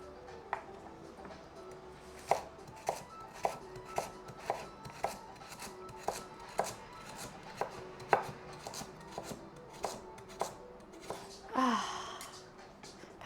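A knife chops vegetables on a cutting board while beef ragu is being prepped, with crisp, evenly spaced taps repeating at a steady, unhurried rhythm, heard close but fairly quiet, and a brief breathy sound near the end.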